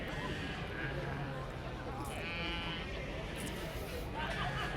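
Dutch Spotted sheep bleat at a livestock show ring at the Royal Highland Show, against busy background crowd noise. One clear, wavering bleat rises midway, with other animal sounds scattered around it.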